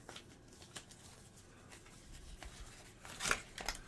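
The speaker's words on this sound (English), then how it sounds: "Let's give it another good shuffle." A deck of game cards is shuffled close by, with soft riffling and flicking bursts that build to a sharper flurry near the end, alone without talk.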